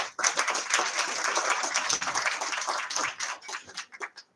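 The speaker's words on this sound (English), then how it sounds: "Round of applause for the Deputy Minister." A crowd at a hotel launch event applauding the Deputy Minister, dense clapping that stays strong before thinning into scattered claps and fading at the end.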